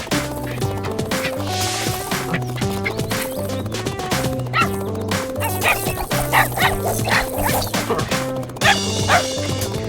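Cartoon dog barking in the desert, with repeated yappy barks over busy animated music that runs throughout.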